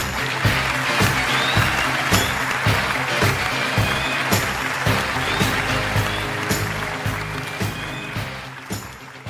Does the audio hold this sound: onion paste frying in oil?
no